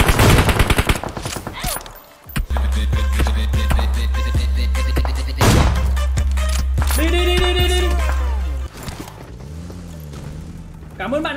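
Rapid gunfire bursts from the video game PUBG Mobile, loud and close with sharp repeated shots, sounding under game music tones and excited voices talking.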